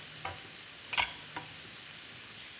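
Chopped onion sizzles in hot olive oil in a pan, a steady soft hiss with a few brief stirring scrapes near the start, close and without any talking.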